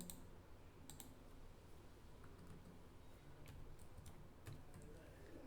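A password is typed on a computer keyboard as a short run of soft, faint keystroke clicks over quiet room tone.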